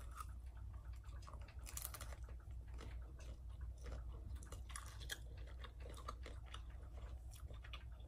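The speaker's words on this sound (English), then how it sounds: "Now I'm gonna eat the dumplings. It's been a minute since I cooked them, so hopefully they're still a little crunchy." Close, steady crunching and chewing of pan-fried pork, cabbage and green onion dumplings, with repeated crisp bites and mouth sounds over a low background hum, no talk.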